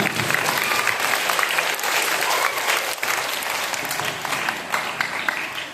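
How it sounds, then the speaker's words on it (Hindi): Audience at a taluka quiz competition final in Bhadgaon gives loud sustained applause, dense clapping that eases slightly toward the end, with some voices mixed in. "एक बार फाइनल राउंड के लिए आप लोग तमाम जोरदार तालियां।"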